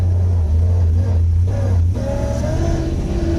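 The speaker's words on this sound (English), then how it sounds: "Oh, and the noise in the gears. Yeah, straight cut box." A straight-cut gearbox in a 525 bhp LS3-swapped Nissan PS13 with Wisefab steering whines as the car pulls away in first, loud engine drone beneath a rising gear whine, steady and close from inside the cabin.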